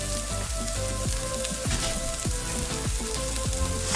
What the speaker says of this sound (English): cooking the corn in the same pan means it kind of picks up some of that porky juiciness from before